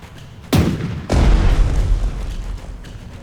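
Naval guns in the Strategic Mind: The Pacific video game fire two heavy booming blasts, half a second apart, each followed by a rumbling roll that lingers and fades, with a fainter report near the end.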